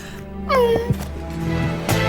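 A cat lets out a single short meow up close, its pitch sliding downward, followed by a couple of faint soft noises.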